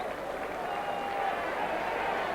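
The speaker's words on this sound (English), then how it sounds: "Rapturous applause from the supporters." Rugby supporters applauding in the stands at Old Trafford after the 1990–91 Division 2 Premiership final between Salford and Halifax, a dense, steady wash of distant crowd clapping and cheering.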